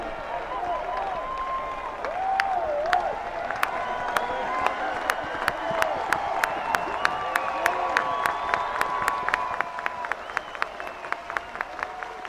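College baseball crowd at Founders Park in South Carolina, on its feet in the top of the ninth: sustained cheering and applause that builds into sharp rhythmic clapping, with whistles over the roar.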